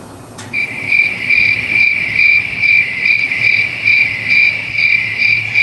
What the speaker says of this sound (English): Thanks for adding in the crickets.